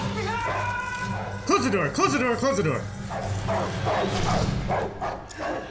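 A guard dog in a movie barks and yaps excitedly close by, mixed with whimpering yips, while a person shouts urgently over the barking.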